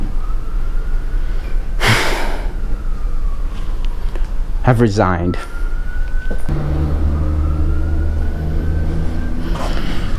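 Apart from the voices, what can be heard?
ambulance siren passing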